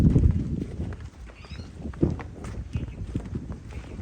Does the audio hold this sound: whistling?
no